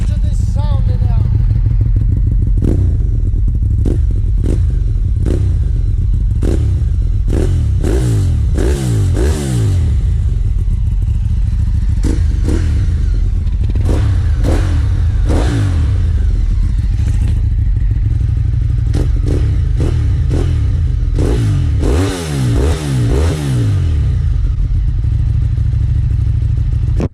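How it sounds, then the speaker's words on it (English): A Ducati motorcycle engine runs loud and close, idling with a steady thumping rumble broken by repeated throttle blips and longer revs that rise and fall, with mechanical clatter throughout. "So let's start it up and see what the sound like."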